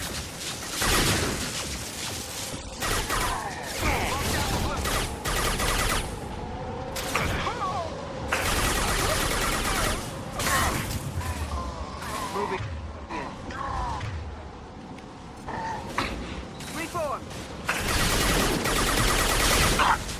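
Combat in Mass Effect 2 inside the Shadow Broker's hideout, with bursts of rapid gunfire and mechanical clatter that come in loud, repeated volleys separated by brief gaps.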